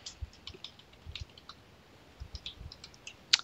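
Password being typed on a computer keyboard while setting up a NetGear N300 WiFi extender: a sparse, uneven run of close, light key clicks with short pauses between, quiet and without speech.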